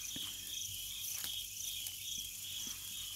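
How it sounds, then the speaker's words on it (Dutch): Steady high-pitched cricket chirping at a campsite in Namibia fills the background, continuous and even, with a low outdoor hum and a few faint clicks underneath. "op de achtergrond horen we de krekeltjes"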